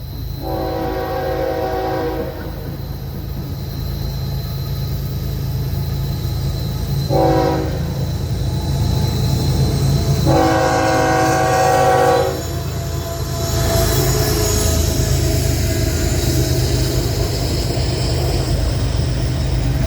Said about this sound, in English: the gates activated, and the train came around the corner.